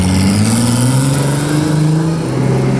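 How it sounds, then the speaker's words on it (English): A Jaguar drag car with a boost leak revving hard at wide open throttle on the street, a loud sustained engine roar with pitch climbing steadily, close and continuous, no talk. "roll the car carefully out into the street and go straight to wide open throttle"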